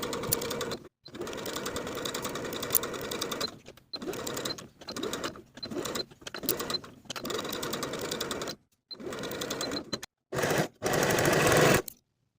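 A sewing machine stitches the pocket seams of culotte pants in close, steady mechanical bursts, each run a few seconds long and separated by brief silent pauses.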